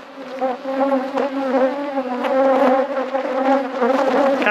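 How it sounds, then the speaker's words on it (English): Honey bees buzz densely and continuously around an open beehive with seven full honey supers. The swarm is loud and close, its hum wavering as the bees move, and no one speaks. "these bees are nasty today"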